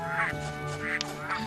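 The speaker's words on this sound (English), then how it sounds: "Ducklings and ducks." Ducks and ducklings in the video game Baten Kaitos, a few loud nasal quacks repeating in a short series over a steady musical background.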